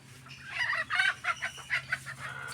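Desi country chickens cluck in a series of short, loud bursts close by, with a rooster crowing among them, over a low steady background hum.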